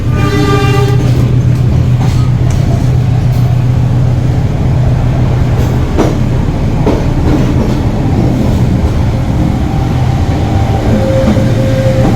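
The KA Pandalungan passenger train pulls out of Probolinggo station with a loud, continuous rumble of wheels and carriages. Horn tones sound near the start, and faint clicks of the rails come through the steady roar.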